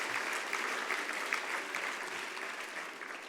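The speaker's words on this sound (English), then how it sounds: "So I think we should give them a round of applause for that." A banquet hall audience claps steadily in sustained applause at an annual dinner and business hall of fame induction for a long-married couple, dense and continuous throughout with no voices over it.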